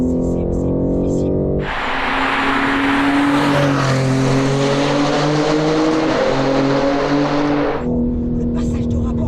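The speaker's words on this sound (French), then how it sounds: "Le passage de rapport là, on dirait un dinosaure un peu là" A BMW M3 G80 tuned to over 700 horsepower revving hard through gear shifts from inside the cabin, a loud rising engine roar with brief dips at each shift, and occupants talking before and after.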